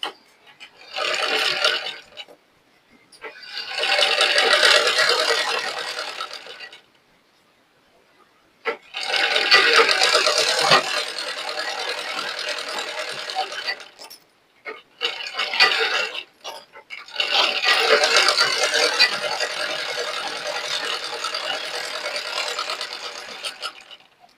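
A sewing machine stitches a blouse front in loud, steady runs of several seconds each, stopping and starting again with short silent gaps between bursts.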